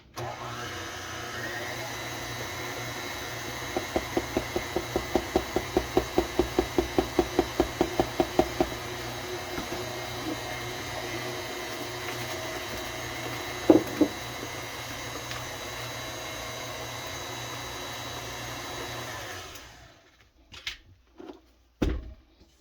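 An electric mixer whirs steadily through caramel cake batter, the motor hum constant with a faint rhythmic ticking midway, then it switches off near the end, leaving a few clunks of scraping.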